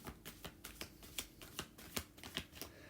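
Cards from a tarot-style oracle deck being shuffled, a rapid run of about a dozen crisp riffling snaps in quick irregular rhythm, close and fairly quiet, with no voices.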